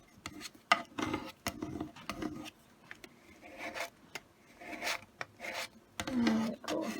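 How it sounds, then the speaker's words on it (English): Fingers and then a card are rubbed over vinyl lettering on a vase, giving soft, scratchy rasping strokes in irregular bursts, close and fairly quiet. "so again, it's going to burnish with my fingers and then I'll use the card."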